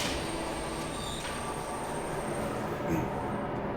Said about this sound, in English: Yeah, you can see it coming. The tram.